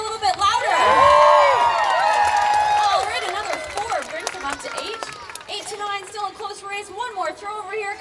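Spectators at an outdoor throwing competition cheer, clap and whoop, loudest early on before settling into scattered shouts and claps, with voices calling out amid the crowd.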